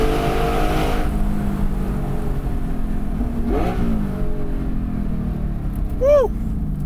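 A tuned Porsche Spyder with a 4.5-liter engine revs loudly in a canyon, a close, growling drone broken by two sharp rising throttle blips that climb in pitch and fall away.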